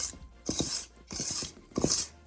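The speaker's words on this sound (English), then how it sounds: "then I'm just going to beat it with a whisk for about a minute" Devil's food cake batter with cream cheese being beaten by hand with a whisk in a bowl, heard as three bursts of close, scratchy rhythmic strokes separated by short pauses, with no voices.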